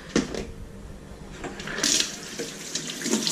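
Orchid roots, a Miltoniopsis being repotted, are rinsed under a running tap, giving a steady splashing water flow with irregular surges and spatters close by, no talking.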